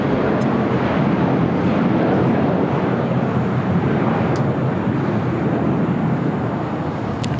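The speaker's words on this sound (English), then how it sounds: "the A350-1000 making that right-hand turn onto taxiway Kilo" An Airbus A350-1000 airliner taxiing and turning onto a taxiway at LAX, heard as a steady, broad jet engine rumble with wind noise, constant and moderately distant throughout.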